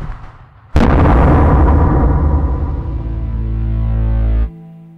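A sudden, loud distorted blast from guitar effects erupts and roars as one sustained, booming wall of sound for several seconds before cutting off abruptly, leaving a low hum.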